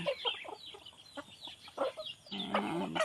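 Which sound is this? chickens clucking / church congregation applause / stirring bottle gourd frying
chickens clucking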